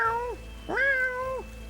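A person imitates a cat's meow, two drawn-out meows in a row, the second rising and then sliding down, close and clear with no other talk.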